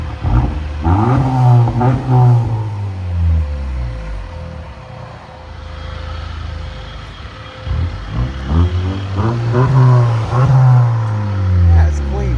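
Honda Accord Sport 2.0 Turbo with a muffler delete or straight pipe, its exhaust revving loudly and repeatedly, rising and falling close by, with a steadier idle drone in the middle.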